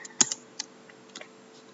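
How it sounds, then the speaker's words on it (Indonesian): Keys clicking on a computer keyboard as shift and enter are pressed in Microsoft Word, a few quiet, close taps spread across a short span with one sharper pair near the start. "saat menekan tombol enter, kita juga harus menekan tombol shift di keyboard kita"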